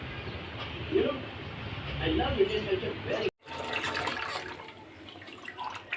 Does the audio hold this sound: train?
no